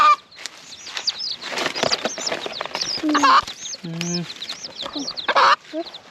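Backyard chickens and chicks in a rural Thai village cluck and chatter in short, varied calls, fairly close, with people talking over them throughout.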